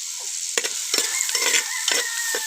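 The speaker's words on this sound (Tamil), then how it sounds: "இப்போ நல்லா தொக்கு மாதிரி வதங்கிடுச்சு பாருங்க." Tomatoes frying in a pan until thick and pulpy, a steady close sizzle broken by several scraping stirs of a spoon, loud and without any voices.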